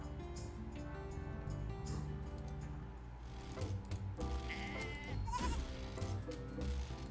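A goat in Doki Doki Ragnarok, a Viking dating sim, lets out a short bleat partway through, set against a steady, droning game music bed that stays fairly loud throughout.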